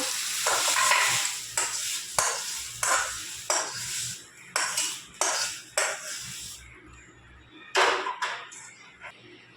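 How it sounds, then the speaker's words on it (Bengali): Okra and potatoes frying in a pan, a spatula scraping in regular strokes over a steady sizzle. "ভেন্ডি আলু একসাথে ভেজে নেব"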